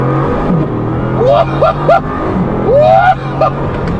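Bugatti Chiron accelerating hard to overtake on a motorway: a loud engine surges in rising sweeps, heard from inside the car with brief voices between the pulls.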